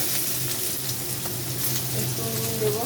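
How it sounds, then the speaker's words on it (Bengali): Chopped potato, onion and green chilli frying in hot oil in a pan for chowmein, a continuous close sizzle with faint stirring scrapes running for about three seconds, no voices. "তেল গরম হয়ে গেছে, এবার কেটে রাখা আলু পেঁয়াজ কাঁচা লঙ্কা এটা দিয়ে দেবো, ভাজবে।"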